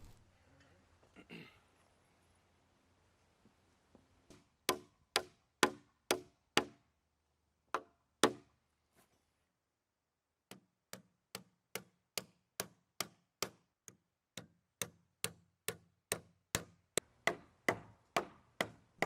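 Wooden deck joists are toenailed into place over a center beam with a hammer, giving a long series of sharp, evenly spaced strikes at close range, with brief pauses between runs of blows.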